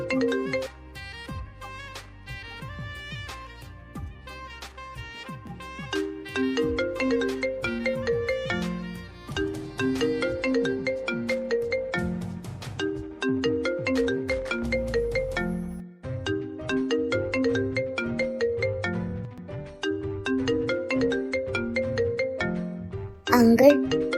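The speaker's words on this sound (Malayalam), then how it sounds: "ഈ ഫോൺ ഇങ്ങനെ റിങ് ചെയ്തിട്ട് എനിക്ക് എഴുതാൻ പറ്റുന്നില്ല" A mobile phone ringtone plays on unanswered, a repeating chiming melody looping in steady phrases for over twenty seconds at moderate volume.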